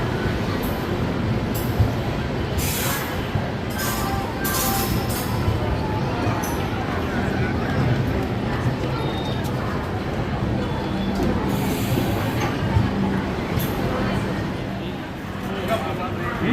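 Ajmer Express passenger train rumbling steadily with a continuous low rail and carriage roar, close and loud throughout, with people talking over it.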